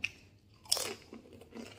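Crunchy emping crackers eaten with nasi kebuli: one quiet, crisp bite followed by soft, close chewing, with no talk.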